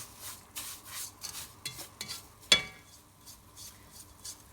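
Roasted sev frying in a pan while being stirred, with quiet scraping and soft utensil clinks against the pan and one sharper metallic knock midway; faint and close, with no talk.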